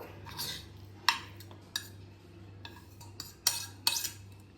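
Cut paneer being mixed with spices in a bowl, with a spoon tapping and scraping against the bowl in a few sharp clinks between quieter stirring, close up with no talk.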